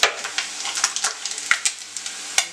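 Chicken pieces frying in hot oil for chicken rice kanji, close crackling sizzle with sharp pops and spatters scattered over a few seconds, no voices.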